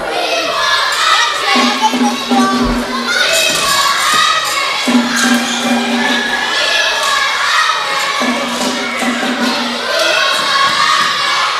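Spectators shout and cheer loudly throughout an amateur Cowboys vs Cavaliers match, a dense continuous crowd roar with repeated sustained chant-like calls rising at intervals and scattered thumps underneath.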